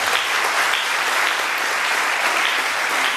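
A church congregation applauding, dense steady clapping from many hands filling the room throughout.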